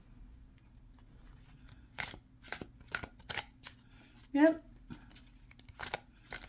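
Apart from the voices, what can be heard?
overhand shuffling of tarot cards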